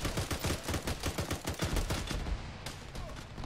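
Rapid bursts of rifle and machine-gun fire in an Arma military shooter game during a team operation, sounding as dense repeated cracks for about two seconds before trailing off into quieter echoing shots.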